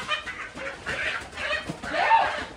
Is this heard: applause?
no